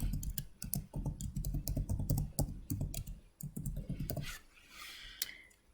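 A password for a Postgres database is typed on a computer keyboard in quick, irregular bursts of close, crisp key clicks, easing off toward the end with a brief rustle.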